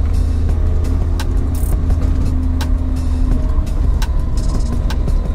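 A Lada Niva with self-locking differentials drives along with a steady, loud engine drone and road rumble from inside the cabin, punctuated by occasional clicks and rattles.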